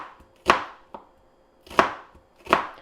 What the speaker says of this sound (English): I am just thinly cutting up the onion along the rings